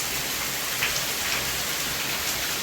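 Steady rain falls outdoors, a dense even patter with soft drops scattered through it, constant and fairly close for the whole stretch with no voices.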